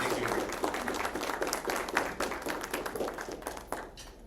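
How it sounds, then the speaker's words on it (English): An audience at a book presentation gives a round of applause for a speaker, with brisk, dense clapping from a modest crowd that gradually thins out toward the end. "So let's give a round of applause to Alejandro."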